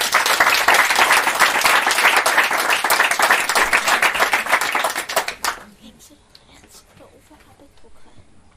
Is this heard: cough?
no